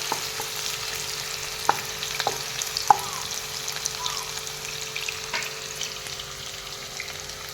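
Chopped onions sizzle steadily in a pan with whole cloves, cardamom and cinnamon as the base for chicken curry, with a few sharp clicks of stirring over the continuous close frying hiss.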